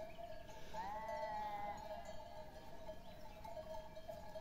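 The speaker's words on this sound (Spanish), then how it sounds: "la oveja va harta, ¿eh?" Sheep bleating at a livestock farm, a drawn-out tonal bleat near the start with a steady harmonic drone and clanking bell-like tones continuing underneath, moderately loud and fairly close.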